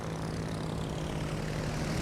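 Carrier aircraft engines drone steadily in World of Warships as a Hakuryu Tier 10 Japanese carrier rotates through its planes, a constant propeller hum with no breaks.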